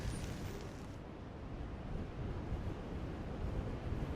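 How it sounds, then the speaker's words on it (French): Wind blowing steadily on the coast at Calais, a continuous broad roar with surf-like rushing and microphone buffeting throughout, fairly loud and alone with no voices. "Le vent souffle."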